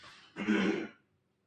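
A single close throat clearing rises into a short rough cough, lasting under a second, then quiet.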